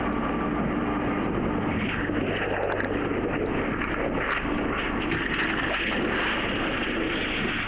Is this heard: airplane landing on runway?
yes